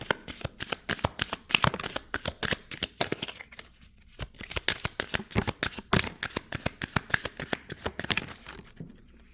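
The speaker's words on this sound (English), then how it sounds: "So I'm going to shuffle this and see what else we get." A deck of cards is shuffled repeatedly up close, fast riffling bursts of crisp paper flutter with brief pauses between rounds.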